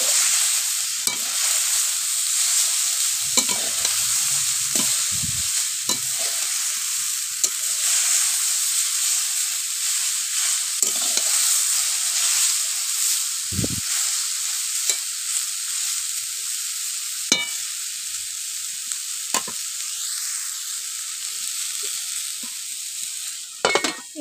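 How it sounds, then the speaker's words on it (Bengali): Bitter gourd, potato and eggplant curry with chili flakes frying in a pan, a steady loud sizzle with occasional scrapes and taps of a spatula stirring, close up and without talk. "আবারও ভালো করে নাড়িয়ে নেব খুন্তির সাহায্যে।"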